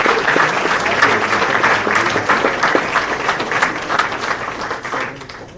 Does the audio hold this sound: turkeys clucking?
no